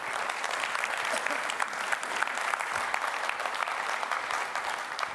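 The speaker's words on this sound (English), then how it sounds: "could we give the organizers a round of applause for progress so far" Summit audience applauding the organizers, a steady, even patter of many hands clapping at moderate distance for several seconds.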